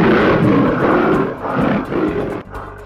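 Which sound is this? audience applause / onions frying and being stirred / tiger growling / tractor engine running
tiger growling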